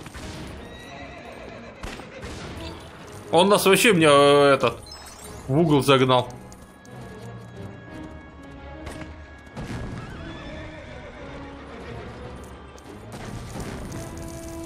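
In the LEGO Indiana Jones video game, a horse gives two loud, shrill whinnies amid clip-clopping hooves and faint game effects, while a person talks quietly over the action.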